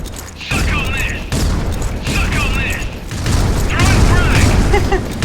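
A bomb goes off in a video game as a deep, rumbling boom that rolls on under excited voices talking over the blast.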